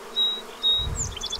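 Honey bees buzzing near a hive during a swarm installation, a steady low insect hum with a few nearer swells as individual bees pass close, no voices.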